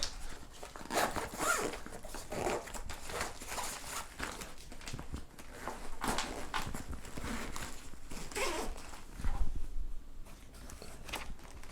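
A zipper on an ebike rear rack bag is pulled repeatedly in short, close scratchy runs, with brief pauses and handling rustles between strokes.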